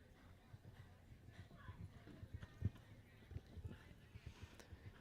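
A horse moves through a show jumping round at an equestrian park, its hooves thudding in an irregular rhythm at a distance, faint and partly masked by talk.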